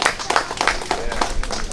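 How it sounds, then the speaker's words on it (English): Scattered clapping from a small group, uneven claps in a loose rhythm with some murmuring underneath. "Give yourself a clap."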